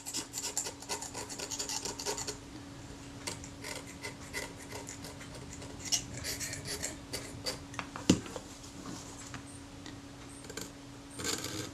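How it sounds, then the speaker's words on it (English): Back of a scalpel blade scraping a brittle coating that fractures away, near a chromed brass hinge; close, dry raspy scratching strokes repeat irregularly across the span, with a sharper click near the end. "It's quite brittle, it fractures away quite easily when I scrape over it. Here I'm just using the back of the scalpel blade."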